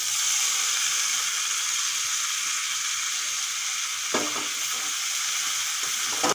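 Cabbage, potatoes and green peas frying with prawns in a pan give a steady, close sizzle that holds for several seconds, with a couple of brief stirring scrapes near the end and no talk.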